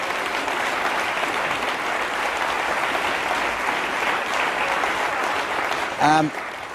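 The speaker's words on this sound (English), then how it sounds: "Sorry, some applause there" A studio audience applauds the winner of a comedy panel game, a full, even roar of clapping held steady throughout before a brief voice near the end.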